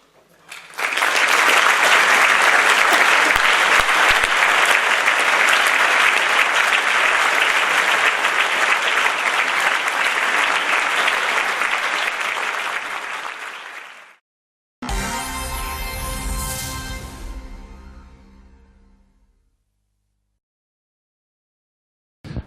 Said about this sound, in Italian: Una serata che il pubblico ha applaudito con passione vera